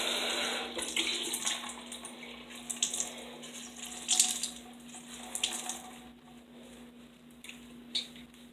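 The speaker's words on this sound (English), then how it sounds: "I just like wash my face and kind of scrub hard to get rid of all the dead skin" Tap water runs steadily into a sink while a face is scrubbed with a bar of soap, with splashes and wet rubbing rising over the constant flow.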